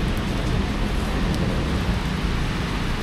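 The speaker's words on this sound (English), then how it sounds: "It's been raining hard." Heavy rain pours down outdoors in a dense, even roar of falling water with no pauses, and low rumbling traffic sits underneath.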